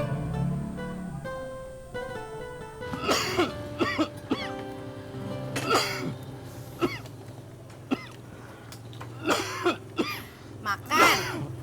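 Repeated harsh coughs and throat-clearing bursts break out in an irregular series after a stretch of talk, close and fairly loud, with voices speaking between them.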